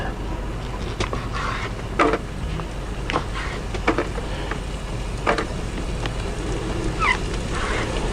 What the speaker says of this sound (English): Oh boy, it is storming out there.